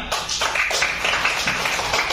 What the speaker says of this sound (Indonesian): Oke, beri tepuk tangannya untuk temannya.